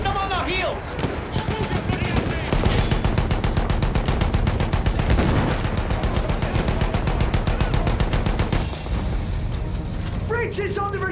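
Suppressing gunfire rattles through a video game battle, dense rapid automatic bursts hammering almost continuously, with voices calling out at the start and end.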